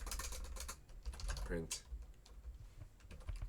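Fast clicking keystrokes on a computer keyboard while writing Python code, close and continuous in bursts, with someone talking quietly over part of the typing.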